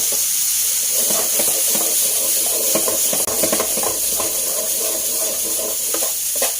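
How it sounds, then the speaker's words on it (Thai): Fried rice with pickled mustard greens, soy sauce and shrimp is stir-fried in a hot pan, giving a continuous loud sizzle broken by repeated scraping spatula strokes close by, with no voices. "ผัดให้เข้ากันนะคะ"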